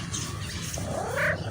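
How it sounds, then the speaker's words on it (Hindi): A small street cat gives a short, faint, rising meow near the end, heard over low background noise in a quiet outdoor setting. "छोटी बिल्ली"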